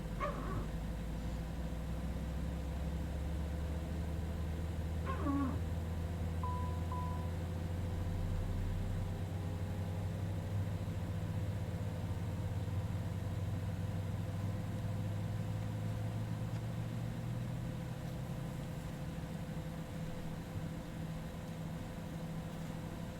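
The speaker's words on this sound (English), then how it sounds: "then left engine start" A Cessna Citation X business jet in Microsoft Flight Simulator 2024 spools up its left engine, a steady low rumble and whine that holds loud and continuous the whole way through, with a brief faint chirp early on.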